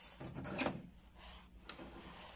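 A door is pushed shut close by: a brief rubbing and scraping build to a soft wooden thud, followed by quieter rustling and a faint knock, with no talk.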